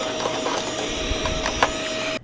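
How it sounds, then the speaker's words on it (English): Vacuum cleaner sucking lint out of a Brother 1034D serger, a steady loud whirring drone held for about two seconds before cutting off abruptly. "let's do a couple rounds of vacuuming"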